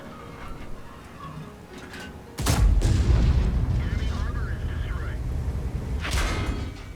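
A heavy booming tank cannon shot in a video game, a sudden loud blast with rumbling decay, followed later by a second sharper report, with a voice talking over the game sounds.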